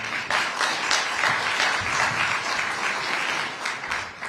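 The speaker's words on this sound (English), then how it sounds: "You may please give yourselves a round of applause for that." Steady applause from the crowd at the New York State Conservative Party fall reception, a dense wash of clapping that stays fairly loud and even from start to finish, with no speech on top.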